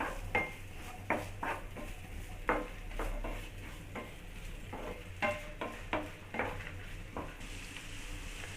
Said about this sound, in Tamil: வெங்காயம் வந்து பச்சை வாசனை போகிற அளவுக்கு நல்லா வதக்கிக்குங்க.